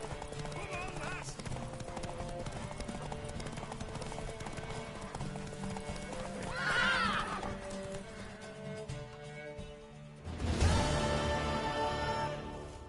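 Horse hooves clip-clop steadily in The Witcher III video game, joined by a horse neighing midway and a louder whinny near the end, with game voices speaking over the scene.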